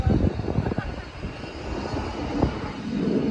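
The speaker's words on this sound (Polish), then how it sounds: "Co to za samolot? On chyba nie ląduje." An airplane passes low over a beach near Phuket airport, its engine roar loud and continuous under people talking.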